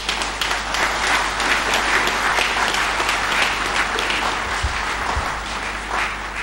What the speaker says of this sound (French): je voudrais les remercier et vous demander à tous ici de les applaudir